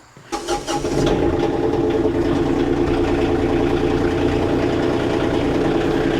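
A Kioti CK2610 compact tractor engine starts up and settles into a steady, loud diesel drone as the tractor is driven, running continuously and close with no talking over it.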